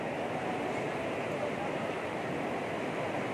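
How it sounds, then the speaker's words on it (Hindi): Heavy rain pours down on the Prophet's Mosque in Medina in a dense, steady broadband roar, constant and enveloping throughout, with no distinct drops standing out. "मदीने में बारिश हो रही है बहुत तेज"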